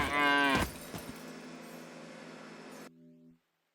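A single cow moos loudly in the video game South Park: Phone Destroyer, a drawn-out low bellow that trails off into game sound before stopping abruptly.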